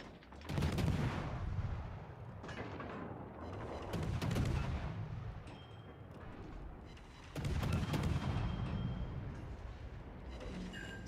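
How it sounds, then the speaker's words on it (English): Warship guns firing in the naval battle game World of Warships: Legends, three loud booming salvos with rumbling tails, roughly three seconds apart, with no talking. "All stations, concentrate fire on that target."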